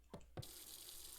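Tap water running in the video game Beacon Pines, starting with two short knocks and then a steady, fairly loud broadband hiss that continues to the end, with no talking.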